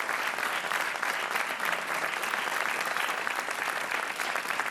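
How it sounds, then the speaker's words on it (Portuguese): A studio audience on a Portuguese TV quiz show applauds, with dense, steady clapping that fills the whole stretch at a constant level and has no talk over it. "Um aplauso para o Rui e para a matemática de Patrícia."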